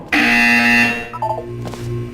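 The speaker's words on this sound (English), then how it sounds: "When you hear the buzzer, look down at the floor." In a Portal 2 test chamber, a loud electronic buzzer sounds alone for about a second with a harsh, steady tone, followed by fainter mechanical beeps and hum.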